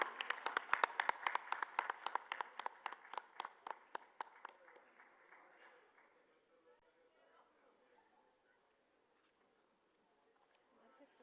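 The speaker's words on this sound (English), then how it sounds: "A big round of applause for Professor Pradeep Mehra." Scattered applause at an awards ceremony, with sharp individual claps strongest at first and thinning out after about four seconds, leaving a quiet room with faint murmurs.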